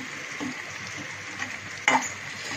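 Spices and a mashed potato filling being mixed in a pan on low heat for bread pakora, a soft frying hiss broken by a few stirring scrapes and one sharp metallic clink near the end.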